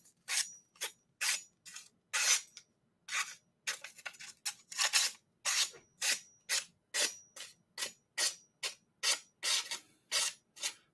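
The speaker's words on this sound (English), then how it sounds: "I'm cutting off some pretty small pieces of paper with this Japanese Damascus steel knife by Master Maison." A Japanese Damascus steel knife slices small pieces of thin packaging paper in quick, crisp strokes, about twenty short, regular swishes close by at a quiet level with silence between them.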